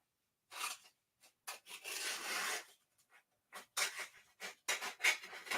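Sublimation transfer paper is trimmed with a series of short, close scraping and rustling cuts, arriving in irregular bursts with brief quiet gaps between them.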